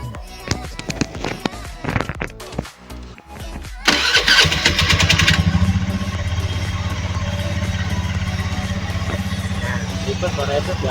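A small Honda automatic (CVT) motor scooter engine cranks with sputtering bursts, then catches and settles into a steady, smooth idle hum, close by, with people talking briefly early on.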